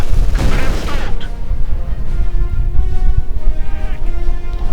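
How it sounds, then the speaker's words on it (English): Mortar and artillery blasts in a Company of Heroes 2 match, a heavy boom near the start followed by a rumbling battlefield bed of distant thuds and gunfire, with a commentator's voice over it. "Mortars."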